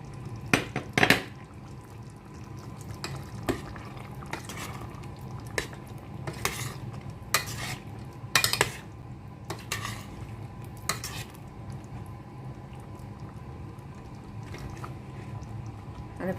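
A pot of okra and meat stewing is moved and shaken by hand rather than stirred with a spoon, giving scattered metallic clanks and scrapes over a low simmering bubble, close and moderately loud, with no talking.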